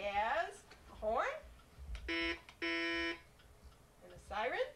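Two short, steady electronic honks from a toy horn, the second a bit longer, set between bursts of a child's speech.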